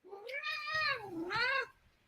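A cat meows twice in close succession, two clear, drawn-out cries with rising and falling pitch, heard near and loud.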